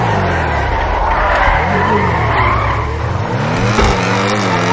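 Car tires squealing and skidding in Grand Theft Auto 5 over a roaring, shifting engine, loud and close with the screech sliding up and down in pitch.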